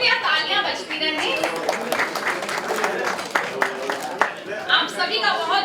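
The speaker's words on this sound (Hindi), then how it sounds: "कृपया तालियां बजती रहें।" Applause from guests at a family get-together welcoming arrivals, scattered crowd clapping rising and falling under an announcer's voice speaking over it.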